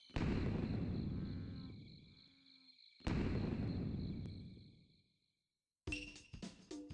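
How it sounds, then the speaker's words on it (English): Fireworks burst in the video game Goemon's Great Adventure, two deep booming explosions each trailing off with a ringing tone, followed by a quick cluster of sharper electronic pops and chimes. "But for now, let's just watch the fireworks."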